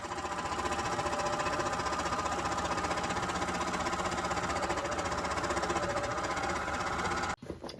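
A sewing machine or serger runs a steady, continuous stitching drone while finishing a pillow cover seam, loud and unbroken for several seconds before stopping abruptly near the end.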